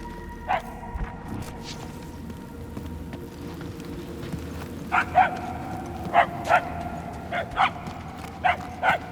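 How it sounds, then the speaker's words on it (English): A dog barks in Marvel's Guardians of the Galaxy on PS5, a few isolated barks at first, then a series of sharper, louder barks in uneven bursts over a low ambient background. "The barks are getting louder, at least."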